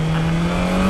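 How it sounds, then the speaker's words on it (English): A BMW S1000XR motorcycle pulling hard in second gear on a test ride, its engine a loud, close, steady drone that rises slightly in pitch over a brief second. "That second gear pull."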